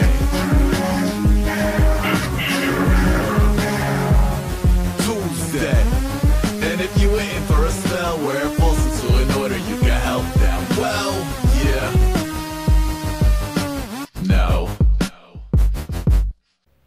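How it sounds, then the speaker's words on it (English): A car driving slowly past, its engine hum loud and drawn out for most of the stretch before breaking into short choppy bursts and cutting off near the end. "Car driving past slowly."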